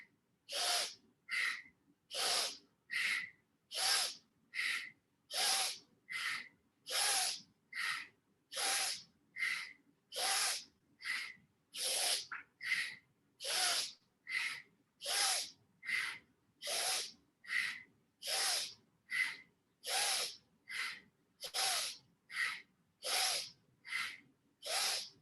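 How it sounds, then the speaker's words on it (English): Forceful rhythmic breathing exercise, about thirty loud, close, hissing breaths in a steady pulsing cycle for the whole stretch, with no talking. "Everybody can do strong breathing."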